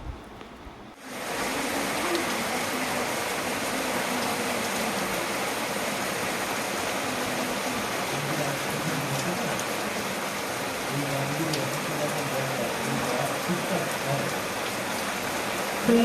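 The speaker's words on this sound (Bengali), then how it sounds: "বৃষ্টি পড়ছে জোরে জোরে ওরে বাবারে বাবা কতটা জোরে বৃষ্টি পড়ছে" Heavy rain pours down steadily outside a home, a dense, unbroken hiss of falling water that holds at an even loudness throughout, with no talking.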